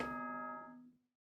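A single chime rings out in the Danganronpa video game, a bright bell tone with a rich cluster of overtones that sustains for about a second, then fades out cleanly into silence with nothing else heard.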